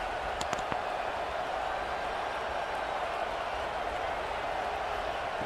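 A stadium crowd in a college football video game gives off a continuous roar with scattered claps, a broad wash of noise held at an even level throughout.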